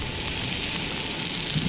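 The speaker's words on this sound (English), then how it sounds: "So we're gonna let this sizzle away." Steady, dense sizzling hiss of flank steak searing on a Camp Chef FTG600 gas griddle outdoors on a windy day, continuous and fairly loud, with a low rumble of wind underneath and no talking.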